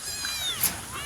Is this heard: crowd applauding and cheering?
no